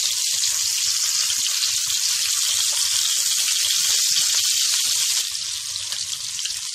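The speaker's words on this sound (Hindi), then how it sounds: "साथ ही साथ ही इसको हम पलटते रहेंगे ताकि हमारे ज्यादा फ्राई ना हो।" Chicken seekh kebabs frying in a pan, a steady loud sizzle running throughout that eases slightly near the end.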